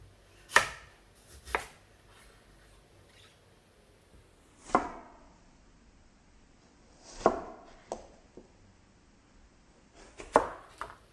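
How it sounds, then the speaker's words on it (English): Vegetables are chopped on a board for quick pickling, with a few separate, sharp knife chops spaced irregularly and quiet between strokes. "Chop the vegetables to appropriate sizes."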